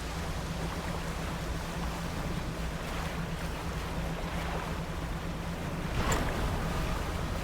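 A boat sails across open water in a video game, a steady wash of waves and wind noise with a low droning tone underneath, fairly soft and continuous throughout.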